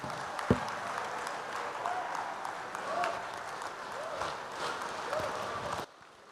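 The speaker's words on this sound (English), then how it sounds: "Another resounding applause for Professor Patrice Lumumba." A crowd applauds Professor Patrice Lumumba with continuous, even clapping, with faint whoops and calls within it, before cutting off abruptly near the end.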